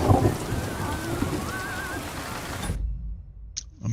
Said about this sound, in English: The thunder's getting a little too loud.